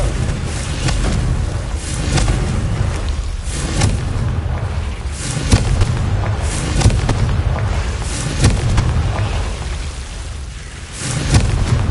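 Repeated Confringo blasting-spell explosions in the Hogwarts Legacy video game, several loud booms and bursts over a dense, rumbling game soundscape with no speech.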